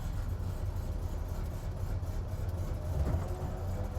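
A restored Land Rover Series IIA engine runs low and steady as the vehicle backs out, a constant deep rumble close by with a slight swell near the end.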